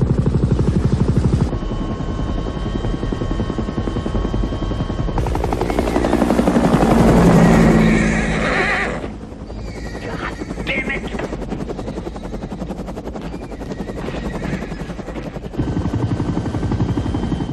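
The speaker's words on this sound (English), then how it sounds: "we thought the helicopter was a terrific way to start" A helicopter arrives in a film scene, its rotor thudding loudly and steadily. The sound swells to a peak, then drops for a moment before the loud chopping returns.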